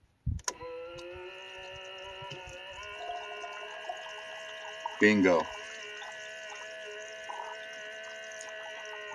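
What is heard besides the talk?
water pumped from a 5 gallon bucket into RV tank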